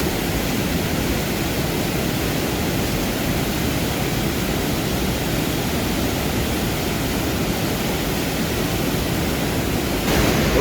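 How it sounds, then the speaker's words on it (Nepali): The Sanjen river, flowing down from China at the Rasuwagadhi border crossing in mountainous terrain, rushes in a loud, unbroken roar of turbulent water that stays constant and close throughout. "चाइनाबाट आएको खोला रे यार"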